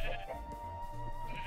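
A sheep bleats in the Minecraft video game, a short nasal call heard close and clear over a steady low background of game sound.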